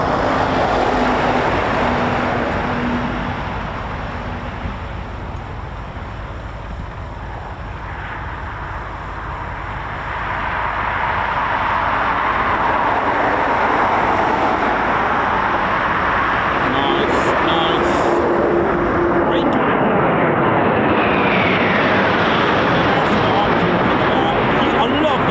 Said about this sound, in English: there's a couple of Typhoons just coming back, I think, now, so here they come